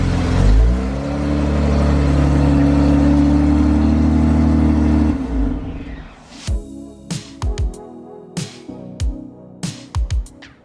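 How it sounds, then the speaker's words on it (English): A BMW E28 car is driven outside, with a steady engine hum and road noise for about five seconds before the sound breaks into intermittent clicks and knocks, with no talk. "I'm using a small dry weather window to drive the BMW outside"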